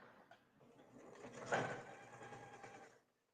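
A sewing machine runs briefly as fabric is stitched, a faint mechanical whir that swells near the middle and then stops.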